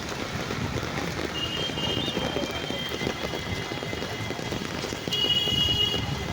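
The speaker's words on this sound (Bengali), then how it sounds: "আরে বৃষ্টি হচ্ছে, দেখো দেখো কেমন" Steady rain falls hard and evenly on surfaces nearby, a dense, continuous hiss with no voices.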